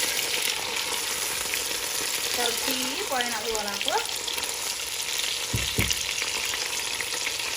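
Kebab and onions frying in hot oil for a Somali rice and kebab dish, a steady sizzle throughout with brief stirring scrapes midway and a couple of sharp knocks near the end, while a voice speaks over the cooking.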